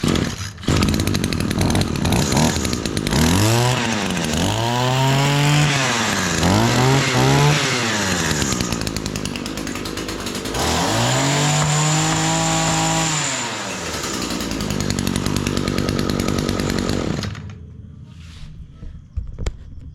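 A small Echo SRM225 string trimmer, recently repaired after falling from a truck, runs loud and close with a buzzing two-stroke engine, revving up and down several times through the throttle before idling and cutting off near the end.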